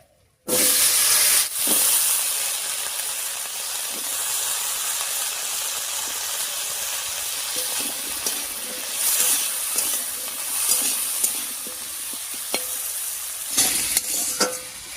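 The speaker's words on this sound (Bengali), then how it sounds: "তেলের উপরে আলুটা দিয়ে নাড়িয়ে নিয়েছি।" Potatoes, added ahead of onions for a Bengali pumpkin-greens (kumro shak) dish, sizzle steadily in hot oil while being stirred, with scraping spatula strokes over a continuous fry hiss and no voices.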